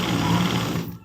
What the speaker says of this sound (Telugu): మిషన్ కుట్టుకుంటానండి. మిషన్ బ్లౌజ్ వేసాను అనమాట.